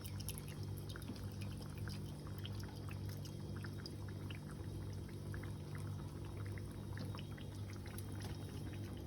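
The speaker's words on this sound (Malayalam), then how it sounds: "അപ്പോൾ ബാക്കിയുള്ള എണ്ണയും കൂടി ഒഴിച്ചു കൊടുക്കാം കേട്ടോ" Leftover hair oil pours into a pan of hot oil, making a faint, steady crackling and bubbling that runs unbroken throughout, with no voices.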